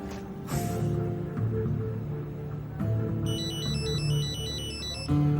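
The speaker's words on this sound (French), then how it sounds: "Appel de Yagiz." A phone ringtone plays a repeating electronic melody, fairly loud, over a steady background of music and ambient tones.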